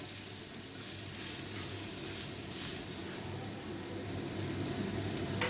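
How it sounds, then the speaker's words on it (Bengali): Water lily stems with green chilies fry in a pan, giving a steady, soft sizzling hiss throughout, close and continuous with no talk. "এবার একটু এটাকে ভাজা ভাজা হবে শাপলাটা একটু ভাজা ভাজা হয়ে গেছে"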